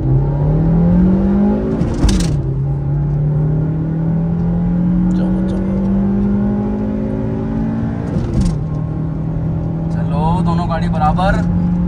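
Two 4th-generation Honda City sedans launch side by side in a drag race, engines droning loud and steady with rising pitch through each gear, sharp shift breaks between pulls, and people talking excitedly over the whole run.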